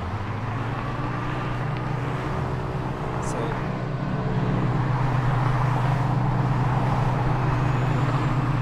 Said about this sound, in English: Soundtrack of that video is the sound of the engine for the truck because it's moving around.